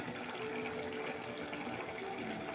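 A lidded clay pot of curry with mango bubbles at a steady, soft boil, giving a continuous, faint watery rumble and gurgle with no voices.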